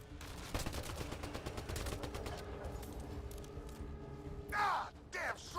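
Video game gunfire rattles in rapid, evenly spaced automatic bursts, moderately close, easing off midway, before shouted voices come in near the end.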